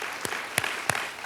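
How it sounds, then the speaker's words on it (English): A few scattered claps from an audience at a speech event honoring a military scholar, three sharp separate hits over a quiet room hum rather than full sustained applause. "So how about a round of applause for them"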